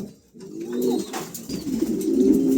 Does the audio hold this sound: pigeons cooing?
yes